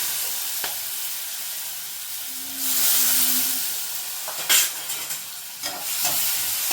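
Chana dal with green chili and turmeric sizzles in hot oil as it is stirred for a Maharashtrian thali, a steady hiss swelling midway, with a few sharp clinks of a spoon against the pan.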